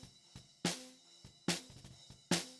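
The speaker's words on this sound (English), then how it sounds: "And snare bottom, which is an AKG P4." A snare drum bottom miked with an AKG P4: three loud, sizzling snare cracks full of bright rattling wires, with softer ghost taps between them, close and alone.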